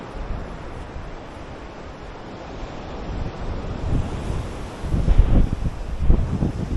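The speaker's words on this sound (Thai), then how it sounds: "ทะเลไม่เหนียวตัวนะครับที่นี่ ลมเย็นสบายฮะ" Sea waves wash steadily onto a private beach at Suan Wang Kaew in Rayong, Thailand, with cool wind rushing across the microphone. Surf swells louder toward the end, with no talking.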